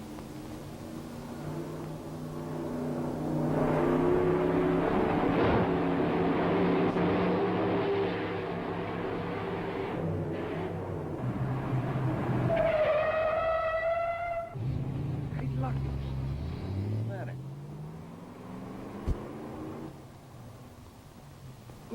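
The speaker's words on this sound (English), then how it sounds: "Look, Joe, take that jalopy there and run it over the bumps." An old jalopy is driven over bumps on a test track with a loud, rumbling engine that swells and drones, then fades as a rising whine and clanks follow.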